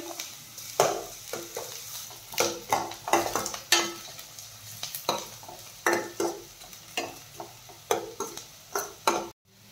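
Onion and garlic frying together in a pan for chole, with repeated scraping stir strokes at a quick, uneven rhythm over a soft sizzle, close and clear, then a brief cutoff just before the end; no talking.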